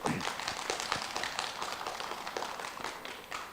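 A crowd of middle-school students claps steadily for several seconds at a school closing ceremony, a dense wash of many hands at moderate volume with no clear rhythm.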